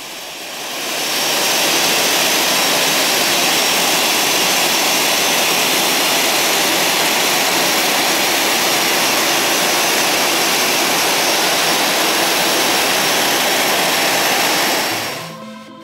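A jet airliner engine roars close by at Luang Prabang airport, Laos, a loud, steady broadband rush that swells in, holds for about fifteen seconds and then cuts off, with no talking.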